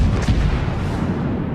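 Battleship main guns firing in World of Warships, a single heavy, deep boom that rolls out into a long low rumble, loud and close.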